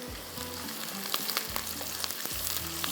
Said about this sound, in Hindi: इसको हमने प्याज के साथ ब्राउन करना है